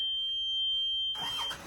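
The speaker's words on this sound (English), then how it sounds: "the engine starts." On a boat, the engine's high alarm tone holds steady, then the engine catches with a sudden broadband rumble and roar as the tone cuts off.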